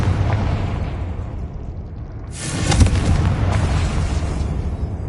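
A Confringo fire spell blasts in Hogwarts Legacy, a deep booming burst that swells into a loud, sustained roar of fiery noise with no voices over it.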